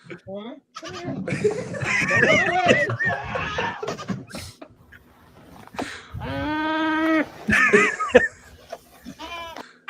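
A goat caught in a farm fence bleats in several wavering cries, loud and nearby, between stretches of people talking and laughing around it.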